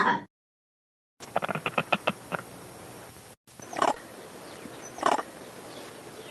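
Recorded monkey alarm calls play back in a lecture hall: a rapid series of sharp barking calls, then after a brief gap a few more spaced, louder calls over a hissy recording background.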